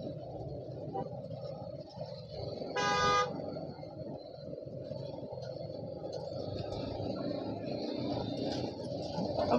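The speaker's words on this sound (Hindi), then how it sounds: "कब होंगे हम ट्रैफिक से फ्री।" Road traffic in Kurukshetra, India, with a steady low rumble of engines and a single short car horn toot standing out near the start, with faint voices around.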